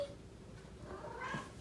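A cat meows faintly indoors in a family home, a single soft, short cry rising late over low room noise.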